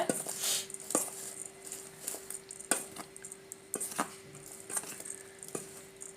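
Rice flour and sugar being stirred in a bowl for vattalappam, giving repeated clinks and scrapes of a utensil against the bowl in an irregular rhythm, close and moderately loud with no talking.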